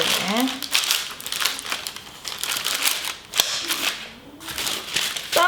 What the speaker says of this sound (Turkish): Şimdi ilk olarak tabanını yağlı kağıtla kaplayacağım.